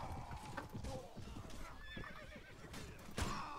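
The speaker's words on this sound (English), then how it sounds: "Shit, this horse is going down." A horse whinnies amid hooves clip-clopping in the medieval combat video game Perisno, with battle noise around it and a voice talking faintly underneath.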